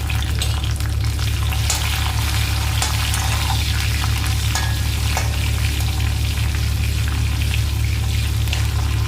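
Green chillies and garlic fry in hot oil with a loud, continuous, close-up sizzle, crackling and spattering steadily throughout with no pauses.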